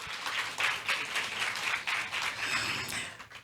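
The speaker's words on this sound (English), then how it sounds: "Please give her a round of applause." Steady applause from a workshop audience, many hands clapping continuously through the whole stretch at moderate loudness, with no voices over it.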